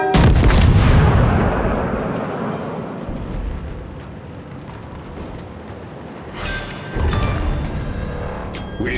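Main guns of the Italian battleship Giulio Cesare firing in World of Warships on the Fault Line map, a huge booming salvo that rolls and decays for seconds, followed by a second heavy blast near the end.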